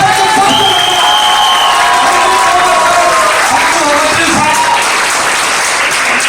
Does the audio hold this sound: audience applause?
yes